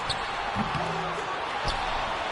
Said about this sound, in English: And Dawkins slams it in